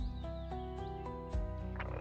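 Cartoon-style frog croaks for a children's story about a little duck, a run of five or six evenly spaced, loud, close croaks with a tonal, synthetic ring, heard alone without speech.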